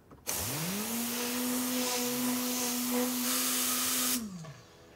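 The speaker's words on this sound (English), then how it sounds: "it's a high pressure cyclonic cleaner, believe it or not" A high-pressure cyclonic air cleaner blasts air while cleaning a BMW part. The loud, steady whine starts abruptly, holds for about four seconds, then spools down and fades.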